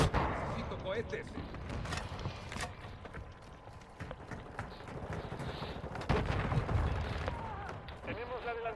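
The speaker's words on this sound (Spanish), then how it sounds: "Cinco cohetes." Rocket explosions and gunfire in the Call of Duty Modern Warfare 2 beta, a dense run of sharp blasts and impacts with a heavy burst partway through, under excited talk.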